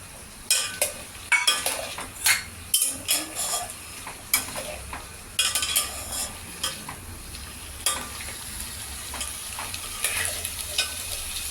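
Potatoes frying and being stirred in a pan for masale bhat, loud close sizzling with repeated rhythmic scraping strokes of a spoon and occasional metal clinks, no voices.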